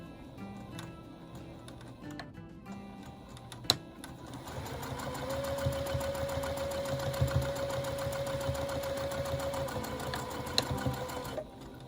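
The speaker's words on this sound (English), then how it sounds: "So let's sew those together." A sewing machine stitches log cabin quilt pieces together: a quiet pause and a sharp click come first, then a close, steady mechanical whirr with fast ticking that runs for about seven seconds before stopping.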